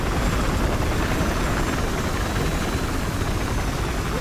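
Steady, dense rotor thrum and engine drone of a helicopter in Battlefield Hardline, loud and unchanging throughout, with no voices.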